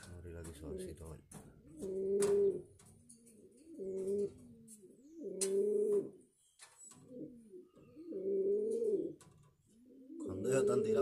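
Pigeons coo in repeated low, throaty bursts at close range, a steady rhythm of rolling calls spaced every couple of seconds with short pauses, while someone talks in between.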